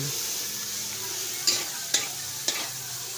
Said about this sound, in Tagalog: ihalo ko na yung carrot saka sitsaro